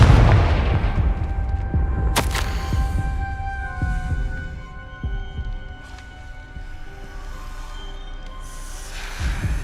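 A Confringo fire spell goes off in Hogwarts Legacy as one sharp, bright blast, then rumbling booms and a low humming drone that fades and swells.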